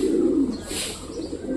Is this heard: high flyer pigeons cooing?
yes